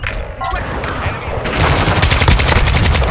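Sustained automatic gunfire in Modern Warfare II, dense rapid bursts that intensify after the first second and continue loud and close, with a player voice talking faintly over the shooting.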